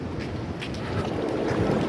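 Ferries running on the harbour at Kowloon City, Hong Kong, heard as a low, rumbling engine and water wash mixed with gusty wind buffeting the microphone, steady and moderately loud.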